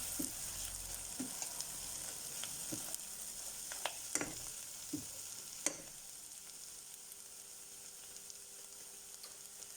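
A kidney bean curry fries quietly in a pan under a soft, continuous sizzle, with a few spoon scrapes and knocks from stirring in the first half.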